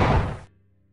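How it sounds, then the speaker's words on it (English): A short muffled blast in the Half-Life video game fires at once and decays in about half a second, leaving a low quiet hum. "you get an explosion that doesn't deal any damage"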